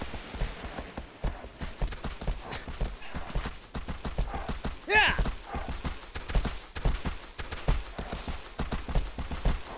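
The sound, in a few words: horse galloping in the video game Shadow of the Colossus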